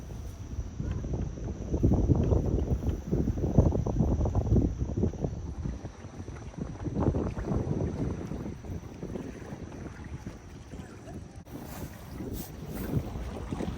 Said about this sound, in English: Just cruising with just the jib, downwind.